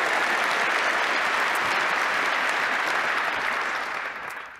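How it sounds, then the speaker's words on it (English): A keynote audience at a tech conference gives a loud, sustained round of applause for open-source maintainers, the dense clapping holding steady before tapering off at the end. "give them a round of applause for the amazing work that they do"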